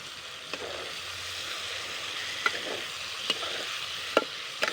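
A paste of three tomatoes, onion and garlic fries in a pan for a vegetarian broccoli dish, with a soft steady sizzle broken by a few sharp spoon knocks against the pan, close and without talk.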